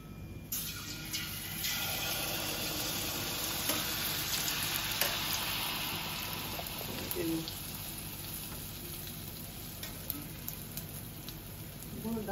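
Malpua, the sweet Bengali pancake, frying in hot oil in a home kitchen: a loud, steady sizzle and crackle that carries through the whole stretch without pause.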